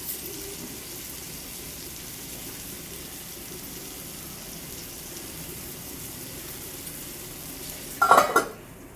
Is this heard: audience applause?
no